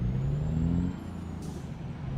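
Truck air brakes in American Truck Simulator release in a short hiss over a steady low engine drone, the engine tone dropping as the truck slows.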